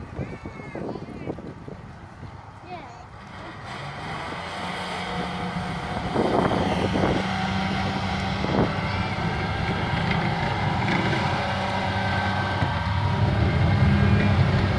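Rapier tracked air defence vehicle in a demonstration at Bovington, its engine a rough low rumble with gusts of wind buffeting and a few brief voices, the drone swelling steadily louder over the final seconds.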